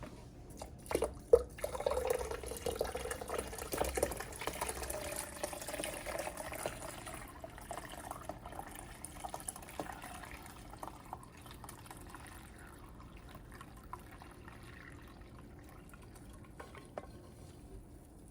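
Hibiscus juice poured through a strainer that catches the flowers, a soft splashing and trickling that gradually thins to faint drips, close and quiet.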